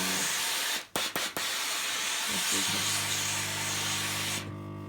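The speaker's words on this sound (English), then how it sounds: "it gives a substantial amount of steam, and that just takes all of the little pieces out." A Braun CareStyle3 steam iron releases a strong, steady hiss of steam close by, broken by a few short clicks near the start and cutting off abruptly at the end.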